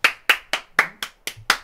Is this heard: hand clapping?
yes